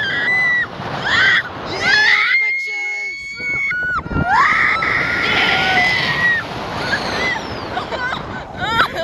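A girl screams in loud, high-pitched bursts during a jet boat ride in Rotorua, New Zealand, over rushing water and splashing, with other voices talking and shouting around her.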